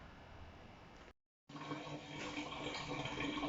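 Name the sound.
engine oil draining from Mitsubishi L200 sump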